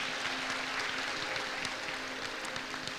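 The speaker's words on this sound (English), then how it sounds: "Big round of applause for Topaz." Applause from a school annual programme audience for the Topaz house after its points are announced, a dense, steady wash of clapping lasting a few seconds.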